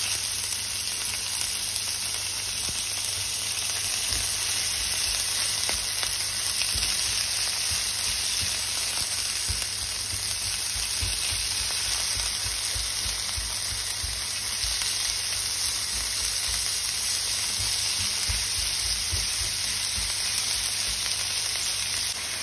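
Kefta (spiced ground meat) fries and browns in a pan after the onions are seared, giving a loud, continuous sizzle throughout with no talk.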